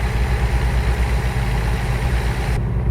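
Steady, loud truck engine drone from a vehicle driving fast in American Truck Simulator, a continuous low rumble with no talking.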